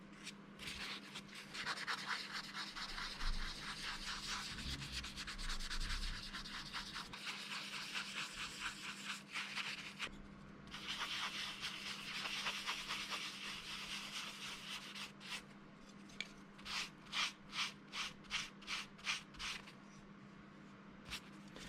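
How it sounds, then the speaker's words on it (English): Soft abrasive-coated sponges rub and scrub against plastic guitar parts in a continuous close-up hiss, later breaking into a series of distinct rhythmic back-and-forth strokes, with no talking. "Now I use these soft sponges with an abrasive coating."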